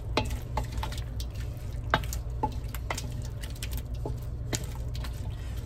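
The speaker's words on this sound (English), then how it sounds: "We'll mix that in. And get that all incorporated." A spoon stirs ingredients into Hungarian goulash in a pot, giving soft repeated scrapes and clinks over a low steady background hum, with no voices.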